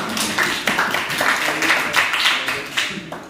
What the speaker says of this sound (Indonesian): beri tepuk tangan dulu buat kita semua